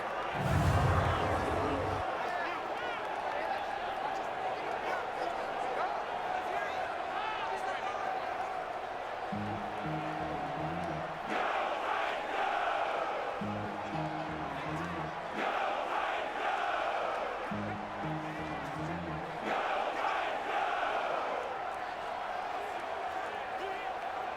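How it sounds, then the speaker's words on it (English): Virtual stadium crowd in a Madden 20 simulated Bengals at Titans football game, a steady roar swelling in waves with rhythmic chant-like bursts, loud and continuous throughout. "the crowd getting into it"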